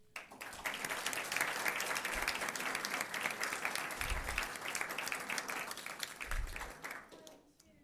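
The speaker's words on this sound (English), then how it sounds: "So big kudos to you and a big round of applause." Steady applause fills a school board meeting room, a full round of many hands clapping together, moderately distant, that sustains for several seconds with a couple of low thumps before tapering off at the end.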